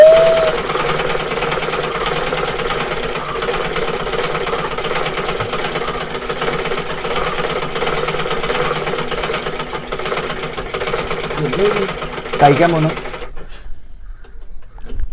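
A sewing machine stitches steadily in an indoor room, a continuous mechanical whir and rapid needle patter running for about thirteen seconds before stopping abruptly into near silence, with faint background talk at times.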